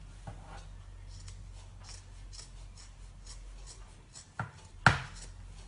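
Scissors trimming the bulky seam allowance on a padded fabric notebook cover: a quiet run of soft, regular snips close by, ending in a couple of sharper clicks, with no talking.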